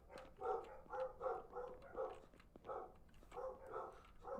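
Dogs bark over and over in the Project Zomboid video game, Build 41. The barks come in a steady run of sharp, mid-distance yaps with short gaps between them, and no one speaks.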